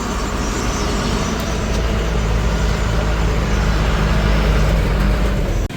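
A diesel truck engine drones loud and close as the truck pulls up to a fuel pump, a dense, steady rumble that cuts off abruptly at the end.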